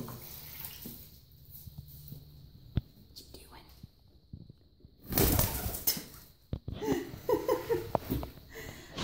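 Pigeons flutter and flap their wings nearby with soft cooing and some splashing water, ending in a burst of close flapping.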